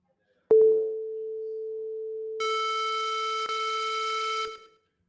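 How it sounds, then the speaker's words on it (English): A synthesizer tone generated in JavaScript starts with a click as a pure, steady sine hum. Partway through it turns brighter and buzzier, then cuts off after about four seconds. No talking is heard. "a sine wave, the kind of curvy one, will make a very different sound from a square wave"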